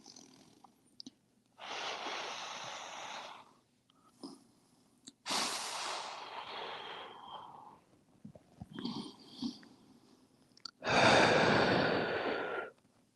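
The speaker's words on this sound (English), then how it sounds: "breathe here, nice 3 long deep breaths" Three long, deep breaths taken during a seated forward fold in a yoga class, each a slow, close, airy inhale or exhale lasting a couple of seconds, separated by quiet pauses and softer breathing.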